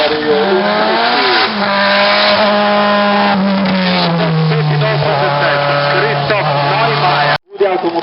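A Subaru Impreza race car at the Ilirska Bistrica hill climb roars past at high revs, its engine note sweeping and shifting while a commentator talks over it, loud throughout before a brief cut near the end.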